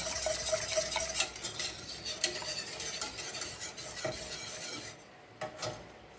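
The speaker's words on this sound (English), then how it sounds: "So you want to mix well" Peanut butter and coconut punch mixture stirred in a pot over low heat, a steady scraping and rubbing of the spoon with a faint sizzle, continuous and close, easing off near the end.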